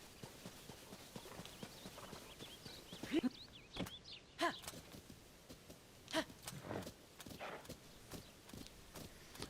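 A horse walks in the video game Zelda: Tears of the Kingdom, its hooves giving a steady, moderately close clip-clop under other game sounds, with one or two brief snorts partway through.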